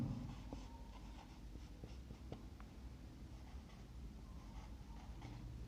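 Chalk or marker scratches across a board during a physics lesson, in short irregular strokes and taps over a quiet room hum, faint and close.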